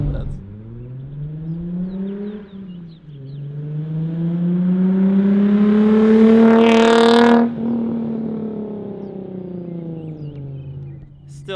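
Nissan 350Z with an aftermarket exhaust, engine note rising and falling through several revs with a loud climb near the middle, heard from inside the cabin while people talk over it.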